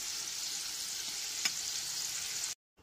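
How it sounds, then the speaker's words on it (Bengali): Potatoes frying in oil in a kadai over a medium gas flame, giving a steady bright sizzle that holds evenly, with one brief stir, before cutting off abruptly to silence near the end. "দু থেকে 3 মিনিট ধরে গ্যাসের ফ্লেমটা মিডিয়ামে রেখে আলুগুলোকে এরকম লাল করে ভেজে নিতে হবে।"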